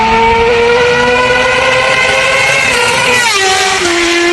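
A Suzuki GSX-R K7 Isle of Man TT Special sport motorcycle engine revs high with a loud, harmonic whine that climbs and then drops near the end, heard close and alone.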